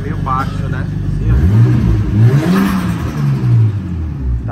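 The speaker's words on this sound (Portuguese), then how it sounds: "Ele tá com um silenciador no escapamento, por isso que tá meio baixo, né?" A Nissan Skyline R33 engine with a silencer in the exhaust revs up and down in a muffled, low rumble, with people talking over it throughout.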